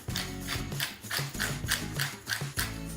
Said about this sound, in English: A few cracks of pepper.